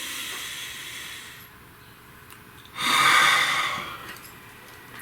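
A single deep breath: a soft airy inhale or exhale first, then after a pause a louder, breathy rush of air lasting about a second, close and alone without talk.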